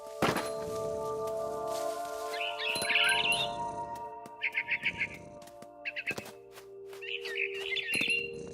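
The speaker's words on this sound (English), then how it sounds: "Then I heard chirping outside my window. It was a barn swallow going back to her nest." Barn swallow chirping outside a window in the game What Remains of Edith Finch, short bright twittering bursts and rapid repeated chirps mixed with a few dull thunks and a low steady tone.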